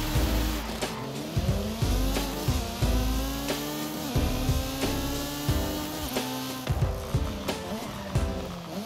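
A Forza Edition car driven in Forza Horizon 5, its engine revving up and down through repeated gear changes with rising pitch sweeps and short drops between shifts, loud and continuous with no voices.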